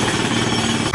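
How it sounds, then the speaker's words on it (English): A jackhammer pounds in rapid, continuous bursts, loud and close, a harsh mechanical rattle that cuts off abruptly near the end. "wait, is that a jackhammer?"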